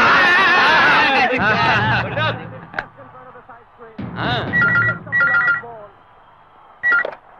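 A telephone rings in a Telugu action drama film scene, with short repeated electronic ring bursts sounding in the middle and near the end, between and over loud, lively conversation.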